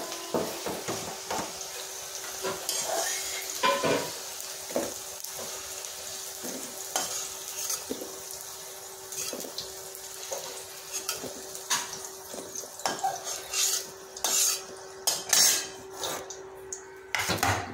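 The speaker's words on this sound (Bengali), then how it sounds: "এভাবে সব সবজিগুলো ভেজে নেবো একে একে।" Mixed vegetables fry in a pan one batch at a time, with a steady sizzle under frequent scraping and clattering strokes of a utensil as they are stirred.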